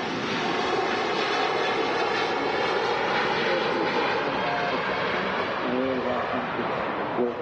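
An Airbus A350 airliner departing Manchester Airport: a loud, continuous engine roar that stays at full power throughout, with a voice talking briefly near the end.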